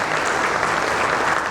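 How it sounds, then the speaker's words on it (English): An audience gives a big round of applause for a panel on digital loan collections, a dense, steady clapping that fills the room without a break. "Ladies and gentlemen, a big round of applause for this wonderful panel"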